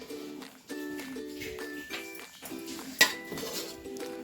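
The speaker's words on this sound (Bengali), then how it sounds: "একটা সাইড থেকে নাড়াচ্ছি।" Mutton biryani stirred from one side of a pot, heard as several close metallic scrapes and clinks of a spoon against the vessel, with one sharper clank near the end.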